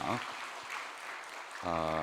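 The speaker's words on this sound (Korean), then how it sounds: "박수 한번 하겠습니다." Church congregation clapping together in a sanctuary during a special early-morning prayer service, a brief burst of applause under a leader's amplified voice that talks at the start and end.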